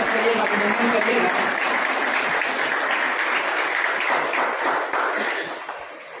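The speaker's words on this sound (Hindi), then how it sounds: "जोरदार तालियों से उनका भी स्वागत करिएगा, अभिनंदन करिएगा।" An audience in a packed hall applauds to welcome a guest at a formal ceremony, with dense, loud clapping that holds steady and then tapers off toward the end.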